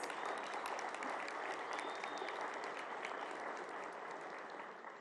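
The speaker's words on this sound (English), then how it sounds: "Give yourselves a round of applause." A conference audience at a summit keynote applauds steadily, dense clapping holding for several seconds before tapering slightly.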